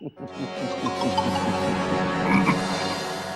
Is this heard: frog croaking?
yes